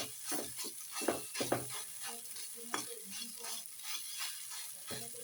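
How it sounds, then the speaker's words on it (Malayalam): A flour mixture of maida and egg is stirred and roasted in a pan, giving close scraping stir strokes in quick bursts over a light continuous sizzle. "ഇങ്ങനെ ഒന്ന് മിക്സ് ചെയ്ത് റോസ്റ്റ് ചെയ്തെടുക്കണം."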